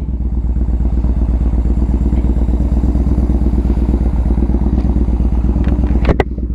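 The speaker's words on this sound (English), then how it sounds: "I hope the bike's not too loud." A Yamaha Bolt motorcycle engine runs steadily up close, its loud, deep, even rumble filling the whole stretch, with a brief clatter near the end.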